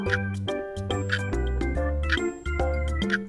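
A bright, bell-like correct-answer chime in a quiz rings out in a short melodic jingle of several quick ding notes, clear and close.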